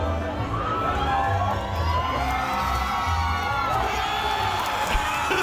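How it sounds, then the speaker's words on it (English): A big arena crowd at a Medieval Times dinner show cheers and whoops continuously, loud and enveloping, with shouted voices blending into the roar throughout. "Dude, you got to hear the fucking crowd."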